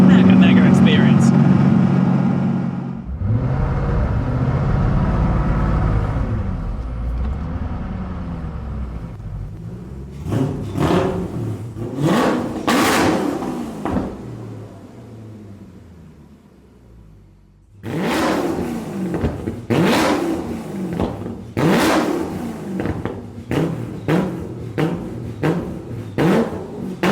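A Koenigsegg CCX supercar with a manual gearbox drives past. Its loud engine roars from the start, then drops to a steady rumble, and revs rise again in bursts. Someone talks over much of it.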